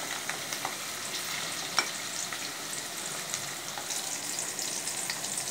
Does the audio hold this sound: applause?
no